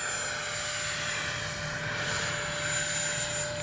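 A Freewing 80mm MiG-21 radio-controlled jet flies past with a steady, loud electric ducted-fan whine and rushing air holding constant throughout, with no talk.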